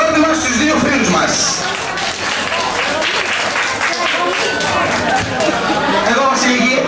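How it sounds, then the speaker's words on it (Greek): A live audience gives two volunteers a warm round of applause, dense continuous clapping mixed with crowd chatter filling the room throughout. "Παρακαλώ, χειροκρότημα στους δύο φίλους μας."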